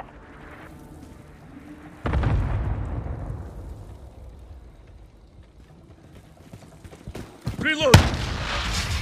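Explosions and gunfire during a Domination match of Call of Duty: Modern Warfare in Azhir Cave: a heavy blast that rumbles and slowly fades, then scattered shots and a sharp burst near the end, with voices calling out.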